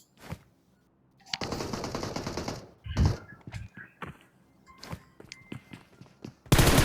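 M416 rifle fire in a battle royale video game comes as rapid bursts and single shots, with a sustained automatic volley and a loud final burst among game sounds.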